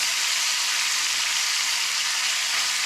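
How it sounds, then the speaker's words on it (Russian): Egg with mayonnaise frying in a pan in a fishermen's hut, a steady close hiss and sizzle that holds evenly throughout with no talk. "надо же сначала чуть-чуть, чтобы он пожарился"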